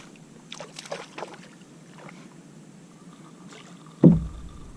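Near the end a single sharp thump sounds as a stingray strikes a kayak on the water, loud and close after quiet lapping and faint movement on the hull.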